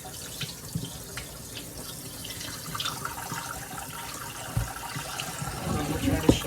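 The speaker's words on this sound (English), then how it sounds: "Okay, you're gonna rinse this chicken off real good." Tap water runs into a kitchen sink as raw chicken is rinsed under it, a continuous splashing hiss with occasional louder splats and handling knocks, growing busier toward the end.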